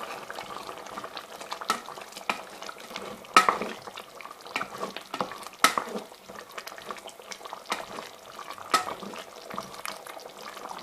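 Chilli con carne is stirred around a frying pan, a spoon scraping and clacking against the pan in irregular strokes over a soft, steady sizzle, with no talking.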